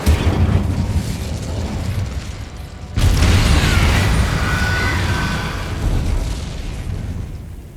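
A fire spell cast in Hogwarts Legacy erupts with a loud burst and sustained roaring whoosh that carries for several seconds after an earlier rumbling stretch.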